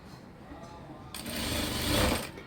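A sewing machine stitches along a fabric edge while making a tucked belt, entering after a quieter stretch and running steadily and moderately loud to the end.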